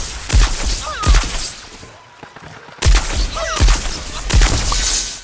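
Gunfire in the shooter game Plants vs Zombies Garden Warfare on PS4: several sharp shots arrive in short bursts, separated by a brief lull, loud and close with some game effects around them.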